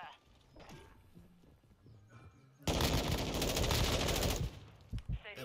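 Rapid gunfire in a video game bursts out loudly as a dense rattling fusillade after quieter game sounds, then trails off into a few separate shots.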